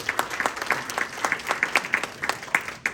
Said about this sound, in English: Another round of applause for Burton Kelso, please.